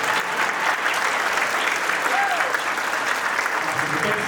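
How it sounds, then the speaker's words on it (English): An audience breaks into dense, sustained applause that holds at an even level with no gaps, a faint voice briefly audible beneath it. "Give a round of applause."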